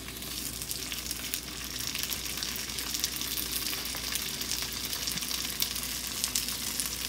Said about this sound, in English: So you want to fry them for about 3 to 4 minutes on each side